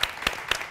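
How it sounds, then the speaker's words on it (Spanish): A TV studio audience gives a few brief handclaps, three distinct sharp claps in quick succession, close and moderately loud. "Aplauso fuertísimo, por favor."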